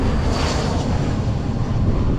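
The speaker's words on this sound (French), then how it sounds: "Attendez, je laisse l'avion passer." An airplane passes overhead on Mykonos, a loud, broad roar that fills the whole moment and is blurred by heavy wind buffeting on the microphone.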